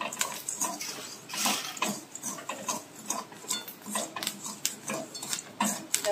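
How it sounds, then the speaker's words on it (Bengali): Chickpeas dry-roasting in heated salt in a pan, giving dense, irregular crackling and sharp pops with scraping clatter throughout, close and fairly loud, with no talk. "লবণটা আমি আগে গরম করে নিয়েছিলাম, তারপরে এই লবণ দিয়ে ছোলা ভাজছি। দেখো ছোলাগুলো আমার ফুটছে।"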